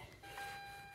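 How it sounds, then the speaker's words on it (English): A faint steady electronic tone beeps continuously from a car's key-in-ignition warning, a thin high-pitched sound in a quiet setting. "Sorry for the beeping."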